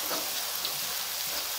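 Chicken powder being stirred into mixed vegetables (cauliflower among them) frying in a pan, a steady close sizzle with a faint scraping stir and no talking.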